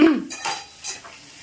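Bitter gourd frying in a pan in a small home kitchen, with close metallic scrapes and clinks of a spatula against the pan in a few short bursts and no steady sizzle.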